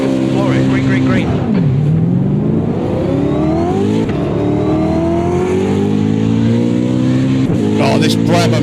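Race car engine in a racing video game revving hard at full throttle, a loud continuous whine climbing in pitch, with gear shifts briefly dropping it before it rises again; steady and close throughout.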